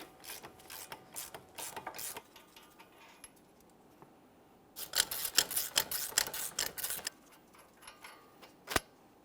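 A 14mm socket on a ratchet wrench loosening the steering knuckle mounting bolts on a 2014-2018 Mazda 3 during a front wheel bearing and hub replacement, giving quiet, close bursts of rapid ratchet clicking separated by pauses, ending with a single sharp click.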